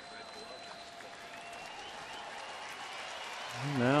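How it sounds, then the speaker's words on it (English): Baseball stadium crowd applauding at a Cleveland home game, a distant, steady patter of clapping that swells toward the end, with faint broadcast commentary underneath. "crowd coming to life a little bit here"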